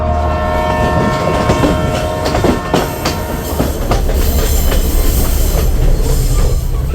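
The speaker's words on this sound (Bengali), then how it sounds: "শুরু হয়ে গেল আমার ট্রেন জার্নি" A train rumbles steadily along the rails, with rhythmic clacking of the wheels, occasional squeals and a faint horn tone, loud and close throughout.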